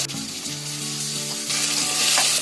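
Ginger-garlic paste hits a pan of browned onions with a loud, continuous sizzle, steady and close with a faint ringing hum underneath, and no one speaking.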